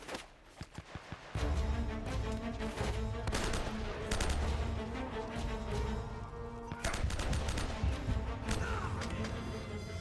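Enemy shotguns blast in Uncharted on crushing difficulty, a dense run of loud gunshots with sharp cracks and crashing impacts that comes in bursts over a steady background of game noise.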